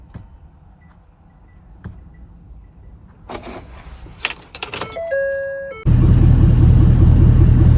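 A 2011 Ford 6.7 Powerstroke diesel pickup after injector replacement: keys jangle and warning chimes sound, then the engine cranks and catches into a loud, steady, close diesel idle rumble.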